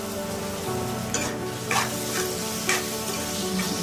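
Tomatoes frying in a pan for a mutton and drumstick curry, a close, steady sizzle broken by a few soft scraping stirs of the spoon, with no one talking.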